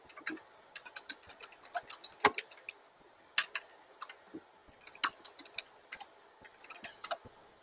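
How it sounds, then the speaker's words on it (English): Rapid, light keyboard typing heard faintly over a remote call connection, with bursts of clicky keystrokes separated by short pauses. "Tongsheng, I think we heard you typing, I believe, or someone else typing"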